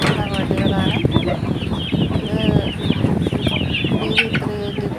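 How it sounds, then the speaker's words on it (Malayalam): BV380 chickens raised in a coop cluck and call continuously at close range, with overlapping clucks, a few rooster-like calls and occasional wing flaps filling the scene. "ഇത് BV380 കോഴിയാണ്."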